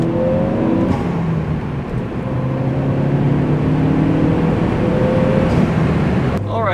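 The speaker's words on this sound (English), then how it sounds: "now you just get all of the nice whooshy boosty noises without any obtrusion from artificial sound valves" Ford Focus ST fitted with a cold air intake, its engine droning steadily and loudly up close with whooshing boost and intake noise throughout, a brief chatter near the end.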